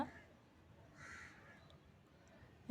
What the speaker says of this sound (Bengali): এই দুষ্টু পাখি